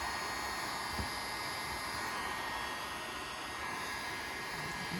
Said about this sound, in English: So the heat gun is your friend doing stuff like this.